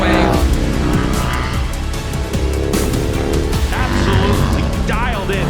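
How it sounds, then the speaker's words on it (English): Harley-Davidson factory race motorcycles at speed on a track, engines roaring loud and continuous with shifting pitch as bikes pass, a race commentator talking over the noise throughout. "We have 3 Harley-Davidsons now at the front leading the way."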